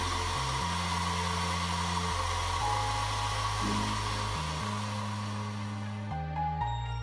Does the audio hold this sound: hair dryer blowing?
yes